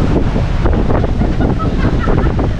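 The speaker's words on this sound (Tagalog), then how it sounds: "malakas ang hangin." Loud, steady wind buffeting the microphone with a rushing roar, likely mixed with surf or water noise, continuous throughout, on the coast in Bohol.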